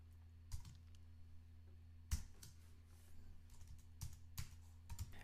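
Scattered clicks of typing on a computer keyboard during C# programming, a few sharp keystrokes and short bursts spread out over a steady low electrical hum.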